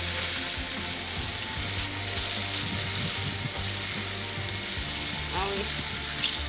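Chicken fries in hot oil with a constant loud, crackling sizzle, a few faint clinks and stirs underneath.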